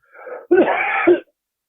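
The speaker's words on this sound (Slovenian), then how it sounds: "Zdaj bom zakašljal, ampak to ni od koronavirusa, ampak se moram odkašljati zaradi prehlada." A man with a cold coughs and clears his throat: a short raspy lead-in followed by a harsh, strained throat-clearing burst, close and loud.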